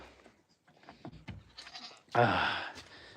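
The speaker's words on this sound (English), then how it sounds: "The goats. Bah." Miniature and full-size goats bleat at an outdoor farm, scattered soft calls and shuffling capped by one loud, close, drawn-out bleat near the end.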